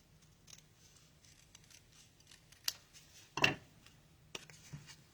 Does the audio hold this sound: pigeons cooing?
no